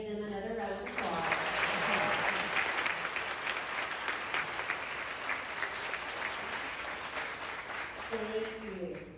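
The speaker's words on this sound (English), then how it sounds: "Let's give them another round of applause." A school audience applauds award-winning students at an elementary fifth-grade ceremony, a full, sustained burst of clapping from many hands filling nearly the whole stretch, with a voice speaking at the start and close.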